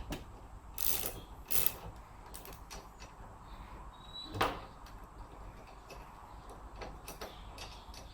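Faint ratchet clicks and creaks at close range as a windshield wiper arm nut is loosened on a car during a wiper linkage repair, with a few brief bursts of clicking in a quiet space.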